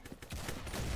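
Rapid gunfire in the Roblox video game, a quick stream of muffled shots that starts quietly and grows louder over a brief burst.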